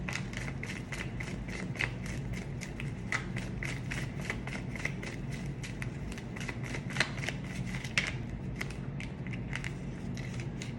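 Tarot cards being shuffled and drawn, a quiet run of soft papery riffles and flicks in an irregular rhythm, close but low in level, with no talk.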